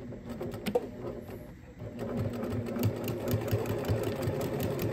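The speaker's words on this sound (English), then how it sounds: "So I'm going to first tack down the bottom edge, and I'm going to fold in the bits like that so that it's smaller." A sewing machine stitches the bottom edge of an apron made from old neckties. The close, steady motor whir runs in short bursts that pause briefly, then settles into a longer continuous run of stitching.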